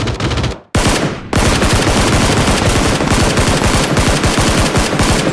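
Automatic gunfire in the video game PUBG, loud rapid bursts of shots with a brief gap near the start, then sustained fast firing to the end.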